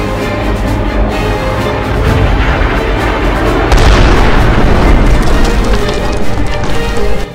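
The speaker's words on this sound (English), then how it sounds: "Missiles are closing in." Missiles launch and detonate in an animated space battle. A dense, continuous roar of booming blasts and rumbling fire stays loud and unbroken throughout, swelling slightly partway through.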